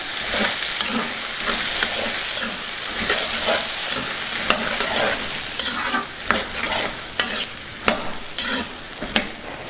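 A spoon stirring eggplant and pea curry in a hot pan over a continuous sizzle, with scrapes and clinks that grow sharper and more regular toward the end.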